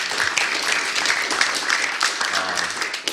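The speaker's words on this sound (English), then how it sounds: "give him a round of applause for being the moderator" Audience applause at an academic panel on elections and democracy, a moderate, steady patter of clapping from a modest crowd, fairly close and even for a few seconds, with a faint voice near the end.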